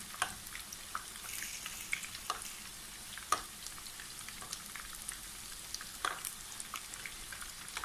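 Rice and minced meat croquettes fry in oil in a pan while hot oil is spooned over them. A quiet, steady sizzle is scattered with small pops and spits.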